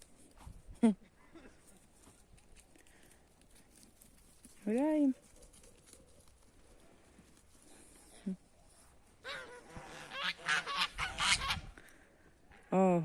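Several loud geese honk in bursts, a clear rising call near the middle and a noisy flurry of overlapping honks toward the end, with farmyard background.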